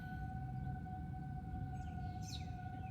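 A Federal Signal 2001 civil defense siren sounds during a tornado siren test, heard as a faint, distant steady wail under broadband outdoor noise, with a brief higher whistle near the end.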